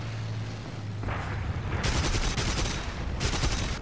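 Mounted guns of a Bf 109 E-3 fighter in War Thunder fire in loud rapid bursts over the low drone of the engine: a first stretch of fire, then a harsher burst, a short gap and another burst.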